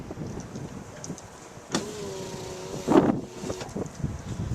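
Electric power window motor on a 1989 Lincoln Town Car runs once for about two seconds, a steady whirring hum over faint background noise, ending with a soft thump as the window stops.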